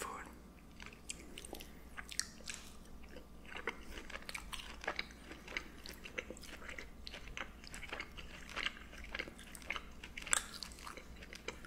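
Sirloin steak with mushroom sauce being chewed close up in quiet, soft bites and wet, crunchy mastication repeating steadily throughout.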